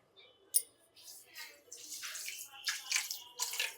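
Water poured for sugar syrup while making Mysore pak gives soft, faint splashing bursts in an otherwise quiet kitchen.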